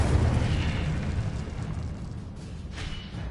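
Incendio fire spell cast in Hogwarts Legacy, a loud whooshing, roaring burst of flame that swells at once and then fades gradually over a few seconds.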